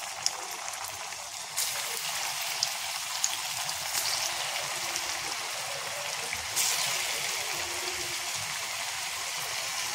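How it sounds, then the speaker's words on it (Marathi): Colocasia-leaf rolls (alu vadi) fry in hot oil in an iron kadhai, a constant bubbling hiss that grows louder in steps as more pieces go in. "तर आपण आता आपली वडी क्रिस्पी तळून घेणार आहोत"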